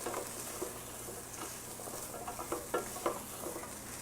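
Carrots and a vegetable mix sauté in a pan with a steady, soft sizzle, while a utensil scrapes and stirs with light clicks and taps. The sound is close but fairly quiet.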